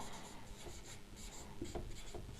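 Pen or marker scratching across a board during a physics lesson on refractive index, a short, steady stretch of rubbing strokes, close and alone with no talk.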